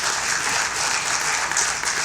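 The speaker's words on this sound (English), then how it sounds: "Round of applause, sir." A lecture audience applauds after a memorial oration, with steady, dense clapping that holds for the full stretch at close range and no talk.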